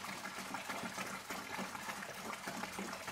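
Water pouring into a Coopers beer brewing kit, a continuous gushing splash with a steady flow, faint and close, heard alone.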